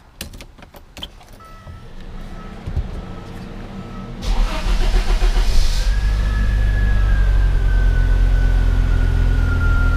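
An Audi 5000 CS Quattro engine catches partway through after some mechanical clicks and handling noises, then settles into a steady, loud idle with a thin rising whine above it as the HVAC system runs.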